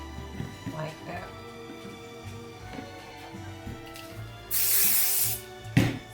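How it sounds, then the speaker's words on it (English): Temporary spray adhesive hisses from a can onto fabric in one strong, close burst of about a second, following quiet handling sounds of cloth and a soft voice. "Spray some temporary spray adhesive"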